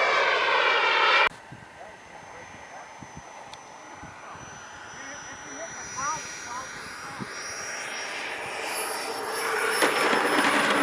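A turbine-powered yellow F-16 RC model jet flying and coming in to land: a steady whining turbine roar with high tonal whistles that slowly shift in pitch, loud throughout and building toward the end.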